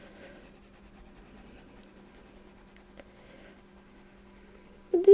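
Soft square Brutfuner coloured pencils scratching across the paper of a colouring book, a quiet, steady, fine rubbing with short repeated strokes under a faint hum, ending in a brief louder bump.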